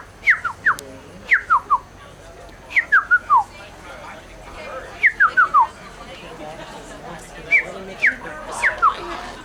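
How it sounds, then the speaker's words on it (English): A person whistles short rising and falling phrases at a bird outdoors, loud and near, in repeated bursts of two to four notes separated by pauses, with faint ambient noise between them. "I think I'm bothering him by whistling."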